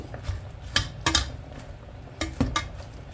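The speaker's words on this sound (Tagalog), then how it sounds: "Tapos ilagay na natin itong dahon ng ampalaya at saka bulaklak ng zucchini." Bitter gourd leaves and zucchini flowers going into a cooking pot, with a few distinct metallic clanks of pot and utensil over a steady low simmer, no talking.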